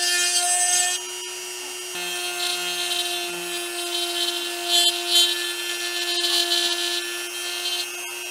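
A rotary tool bit grinds a groove into the plastic of a motorcycle handlebar grip on a CRF110, a steady high whine with a slight dip near the start and a few rough catches as the bit bites.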